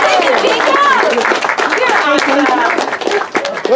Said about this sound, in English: Give Jacob a big round of applause.